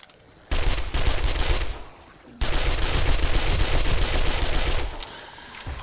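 Gunfire from a weapon aimed through iron sights in the survival game 7 Days To Die, loud rapid bursts of shots in two long volleys split by a brief pause.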